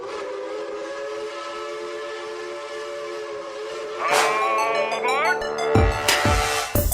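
A train whistle sounds as an effect, with a sustained, steady tone holding for about four seconds before louder, brighter whistle blasts and rumbling bursts take over near the end.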